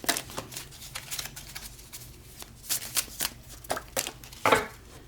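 A deck of cards is shuffled up close in a string of crisp riffling bursts and soft taps, coming in uneven clusters over several seconds with no talking.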